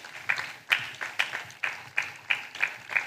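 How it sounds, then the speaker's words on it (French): Church congregation claps together in a slow, regular beat, about eight sharp hand claps spaced roughly every half second, close and prominent, with a soft murmur of voices between them. "Acclamation à Jésus Christ. Clap offering to Jesus."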